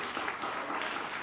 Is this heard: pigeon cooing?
no